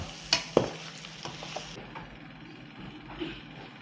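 Homemade chicken 65 fried rice is stirred in a pan, with a couple of sharp utensil knocks against the pan at the start, then soft scraping and a faint sizzle underneath.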